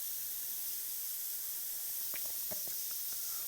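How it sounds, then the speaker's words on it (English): An airbrush sprays a light fog of opaque paint onto a saddlebag, giving a faint, steady hiss with a few soft clicks and bumps near the end. "you can spray a light fog over these areas as well to brighten them up just a little bit more"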